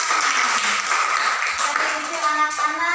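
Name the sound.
children clapping hands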